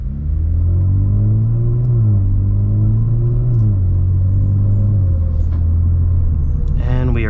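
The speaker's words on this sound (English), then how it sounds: "I am going to accelerate just a tad bit quicker so you guys can get a sense of how it sounds like that." A Kia Stinger GT2 fitted with a Borla active valve exhaust accelerates through the gears, its deep drone rising in pitch, dropping at each shift and climbing again, heard steadily from inside the car.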